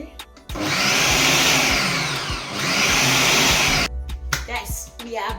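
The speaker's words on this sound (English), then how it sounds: "this is the sauce that I was blending before" A kitchen blender whirs loudly and close while blending a sauce for homemade Nigerian sausages, running steadily for about three seconds with a brief dip midway, then cutting off into quieter handling noises.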